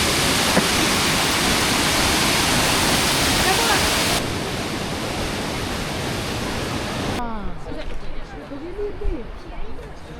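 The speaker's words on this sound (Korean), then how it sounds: "슈정폭포라고 합니다. 엄청나게 시원하게 물살이 내리죠." Shuzheng Waterfall in Jiuzhaigou, at about 2000 m altitude, sends fast-flowing water crashing down in a loud, steady broadband roar. The roar drops in level partway through and ends with voices talking nearby.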